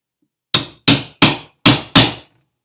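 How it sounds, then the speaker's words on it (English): Wood being chiseled with a hammer and chisel while making a wooden phone or tablet holder: five loud, crisp strikes in a fairly even rhythm, each ringing briefly before the next, close up and with no voices. "We are chiseling."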